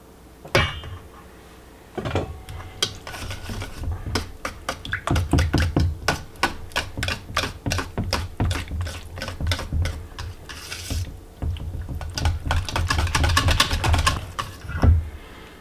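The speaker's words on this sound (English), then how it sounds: "For this part, I prefer to use a whisk." A wire whisk stirs whey back into thick homemade Greek yogurt made from powdered milk, giving rapid, steady clicking and scraping taps against the bowl for over ten seconds, with a few brief pauses.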